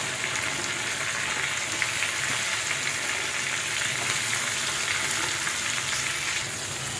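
Okra with turmeric frying in hot oil, a dense, even sizzle heard up close and running steadily throughout, with faint stirring underneath.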